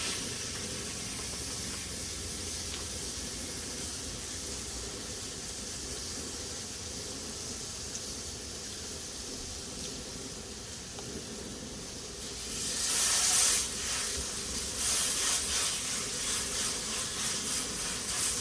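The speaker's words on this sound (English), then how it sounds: "It sizzles." A soft, steady hiss of an Impossible plant-based burger patty sizzling in a pan runs throughout, swelling louder and crackling more in the last few seconds.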